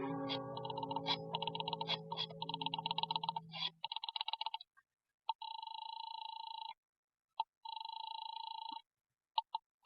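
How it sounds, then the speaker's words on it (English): Rotary telephone dialing clicks give way to a steady, repeating ring tone heard through the earpiece in a radio drama, several long tones with gaps, clear and alone with no voices. "picked up the phone, and started to dial the number of Harvey's office"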